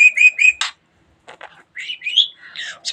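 A budgerigar chirps and whistles in short bright phrases, close and clear, with a brief pause before a run of warbling, rising calls; no other sounds intrude.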